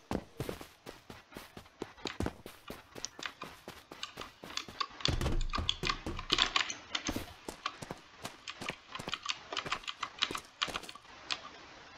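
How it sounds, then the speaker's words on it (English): Rapid, crisp footsteps tap repeatedly in the video game Escape From Unturnov, an irregular run of sharp clicks and thumps that stays fairly close and fluctuates in loudness, with no talk. "Hear that? Footsteps."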